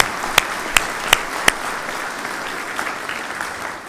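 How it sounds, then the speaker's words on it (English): An audience at a Mississippi Valley Division change of command ceremony applauds a family. Four sharp, evenly spaced claps ring out up front, followed by a softer, scattered patter of clapping that fades away. "Let's give a big round of applause for the Weirs."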